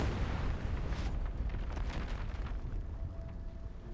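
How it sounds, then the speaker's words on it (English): A deep, rumbling explosion rolls on continuously with crackling debris as a bomber detonates in the sky in the video game Reverse: 1999. "The bomber detonates in the sky"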